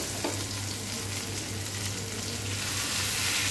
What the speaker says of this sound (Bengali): মাঝামাঝি তেলে এই কই ফিশটা ভেজে নিতে হবে